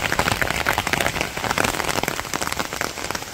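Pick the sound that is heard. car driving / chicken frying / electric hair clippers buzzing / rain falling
rain falling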